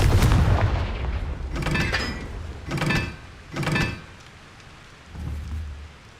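Repeated Confringo blasting spells go off in Hogwarts Legacy, about five loud booming impacts with crackling tails, spaced roughly a second apart, with nothing between them.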